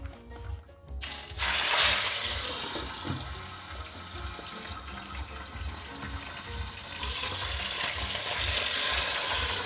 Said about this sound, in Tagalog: So, umuusok na, pwede na natin ilagay yung ating tilapia.